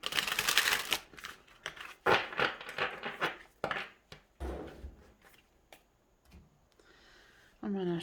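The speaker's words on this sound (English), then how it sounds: "I'm going to shuffle these since I didn't need a whole lot of cards." Quick papery riffles and clicks of tarot cards being shuffled, coming in bursts close by, with a few pauses and a voice briefly at the end.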